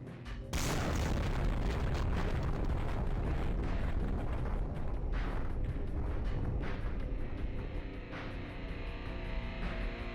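A bomb detonates in Half-Life: Source with a sudden, loud blast, followed by a sustained, dense roar of rumbling debris and crackling bursts that persists for several seconds.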